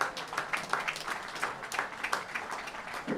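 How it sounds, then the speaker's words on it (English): Applause at a hurling team's cup celebration, a small gathering clapping with an uneven, slightly ragged rhythm for a few seconds. "So big round of applause for all the partners."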